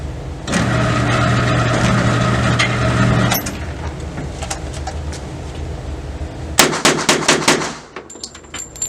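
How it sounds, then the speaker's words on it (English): A Thompson 1927A1 firing rapid shots: a dense, loud run of close reports at first, then sparser sharp cracks, ending in a final quick burst before it falls quiet. "And yes, you can do it rapid fire. You can fire one of these one-handed."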